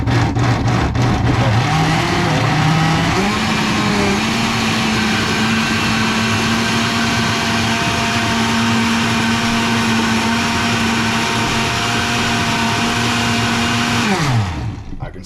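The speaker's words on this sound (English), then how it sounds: "Still see some of my mango bits floating around in there, so I'll blend it a little bit longer" A blender whirs loud and steady, blending mango and almond milk into a smoothie, the motor holding one pitch for many seconds before spinning down and stopping near the end.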